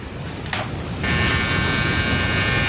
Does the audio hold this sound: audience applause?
no